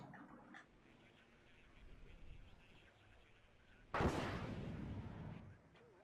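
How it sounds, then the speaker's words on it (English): An artillery piece fires a single shot in the real-time strategy game WARNO, one sharp loud boom cutting through quiet ambience and trailing off into a rumbling decay. "I'm gonna fire like 1 shot at that location"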